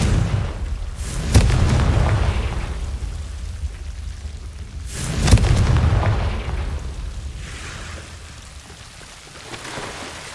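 Two deep booming blasts from the Confringo spell in Hogwarts Legacy, each a sudden heavy thump rolling into a rumbling decay, spaced a few seconds apart with no talk over them.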